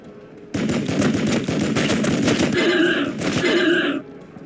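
Sustained bursts of rapid automatic gunfire in a Warhammer 40k Imperium video game, loud and close, roaring continuously for about three and a half seconds with a brief break before stopping.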